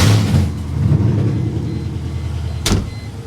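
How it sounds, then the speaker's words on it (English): A car with its exhaust removed and no O2 sensors revving on open headers, a loud rough low rumble with a quick rise in revs and a sharp crackling burst near the end. "I just want to see how loud it is. With literally just open headers."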